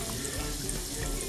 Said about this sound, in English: And when I stir it, you'll see bubbles just kind of rushing in.